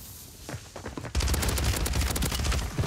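Video game shotgun fire: after a few scattered shots, a loud dense barrage of rapid blasts erupts and continues without pause, close and heavy.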